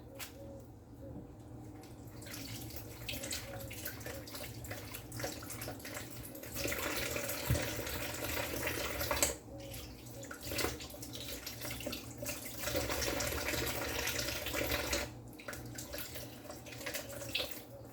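Vegetables washed under a running kitchen tap, a continuous rushing stream that surges and dips with short breaks as the produce is moved through the water.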